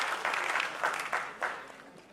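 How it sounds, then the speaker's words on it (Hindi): Audience at a fundraising concert for Nepal earthquake victims clapping briefly, a dense patter of applause with a few louder swells, fairly close. "जोरदार तालियां हो जाए दोस्तों।"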